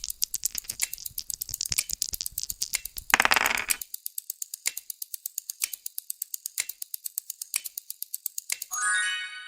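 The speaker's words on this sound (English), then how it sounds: "That was the sound of dice rolling." Dice clatter and roll across a tabletop in a quick series of sharp clicks and rattles, settling into evenly spaced taps that stop near the end, heard close and clear with no talking.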